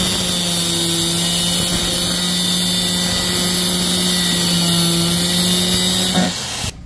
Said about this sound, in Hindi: आप देखिए किस तरह मैं इसको कटिंग करा रहा हूँ वेल्डिंग से